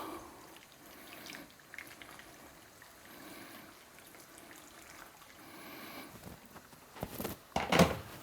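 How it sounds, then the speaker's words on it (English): Water poured into and stirred through a spice mix for a spicy chicken dish, soft trickling and wet stirring, faint and intermittent, swelling into a brief louder splash near the end. "So now I'm just going to mix this with some water."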